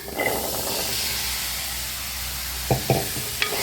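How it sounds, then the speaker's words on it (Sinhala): Chickpeas sizzle and hiss steadily in hot oil in a pan, a loud continuous fry with a few brief stirring knocks near the end. "දැන් ඉතින් මේ කඩල ටික දානවා තෙලට."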